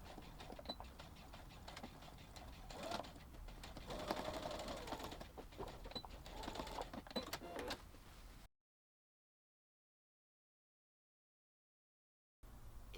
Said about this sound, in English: we'll stitch along that edge